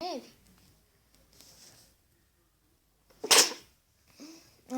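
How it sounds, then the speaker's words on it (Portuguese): A single sharp, loud sneeze bursts out close by in the middle, set between quiet stretches and brief bits of a voice. "Ah, espirrei no vídeo."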